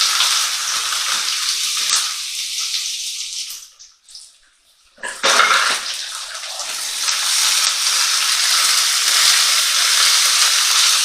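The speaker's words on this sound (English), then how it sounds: "And it says to fry that for 5 minutes." Onion and grated carrot fry in a pan with a loud, steady hiss, briefly dropping to near quiet midway before the sizzle surges back and continues without talk.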